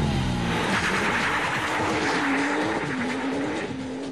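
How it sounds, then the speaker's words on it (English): A Porsche GT2 makes a launch-control start on a test track, its engine roaring loud and steady with a rising, strained pitch as the car pulls hard away, with a hint of tire noise and no talking. "Thanks to launch control, the Porsche gets off to a phenomenal start."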